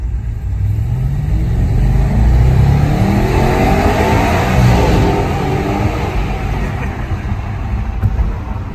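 A new car's engine revs up as it drives off, rising in pitch through the gears with a steady loud roar close by, then settling into a smoother cruise with road noise.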